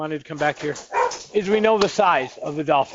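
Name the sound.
dog barking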